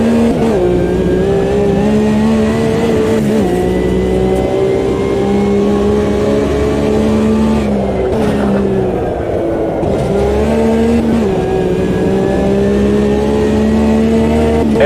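A car drives hard to heat up its tires, the engine droning loud and close with repeated rises and drops in pitch as it revs, shifts and eases off.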